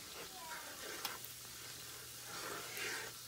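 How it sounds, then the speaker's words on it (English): Roux for Louisiana-style gumbo is stirred constantly in a pot, giving a faint, steady sizzle with soft scraping strokes, heard close and quiet. "And my husband's going to stir it."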